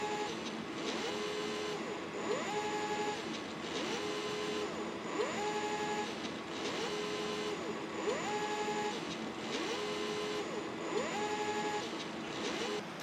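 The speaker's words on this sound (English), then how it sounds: "the tape drive gets stuck and tries to read the tape again and again" A DEC TZ30 tape drive repeatedly tries to read a TK50 tape, cycling through a rhythmic whirring motor sweep that rises and falls about every second and a half, steady and close, with a constant mechanical hum underneath.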